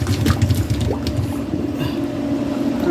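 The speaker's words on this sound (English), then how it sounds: "Okay, I'm draining the carrots." Water gushes and splashes as it drains out of a pot of boiled carrots, a close, continuous sloshing pour.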